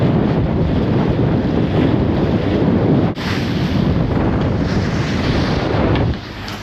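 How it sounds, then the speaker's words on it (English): Strong wind buffeting the microphone out at sea aboard a small fishing boat, a steady loud rush with waves beneath it, briefly dipping once and easing slightly near the end. "That wind's definitely freshening a little bit."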